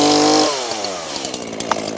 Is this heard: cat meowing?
no